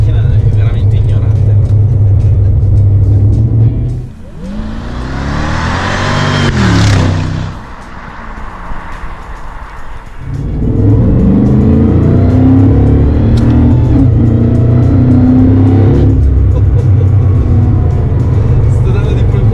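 Mercedes SLR McLaren at about 40% throttle, its loud engine rumble building and rising in pitch, then dropping to a quieter stretch before the heavy drone returns; someone talks over parts of it.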